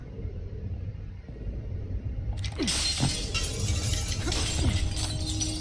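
Glass shatters in State of Decay 2, a sudden bright crash halfway through followed by tinkling shards over a low steady rumble, close and loud.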